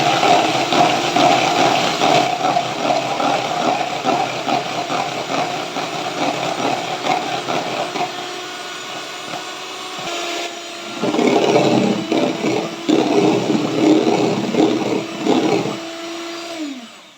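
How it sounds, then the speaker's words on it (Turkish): Electric mixer whipping three egg whites toward stiff peaks on a high setting, its steady loud whir running throughout, dipping briefly in the middle before climbing back up and fading at the end. "Krem şanti kıvamını alana kadar çırpacağım."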